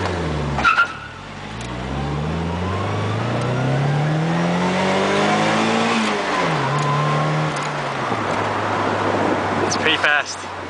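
A Nissan S13 240SX drift car's SR20DET engine revs hard and climbs steadily in pitch, drops back briefly, then keeps roaring at high revs, with voices faintly audible underneath.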